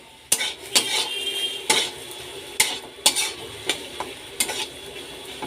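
Spoon scraping and clinking against a pan while stirring taro paste paturi with shrimp, a series of sharp, close metallic knocks over a soft background sizzle, no voices.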